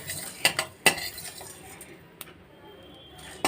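Cumin seeds lightly roasted in a dry pan while being stirred, with a few sharp metallic spoon clinks and scrapes over a faint steady sizzle, close by, then quieter scraping.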